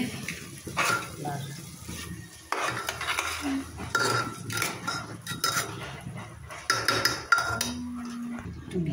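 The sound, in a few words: stirring pulao ingredients in a pot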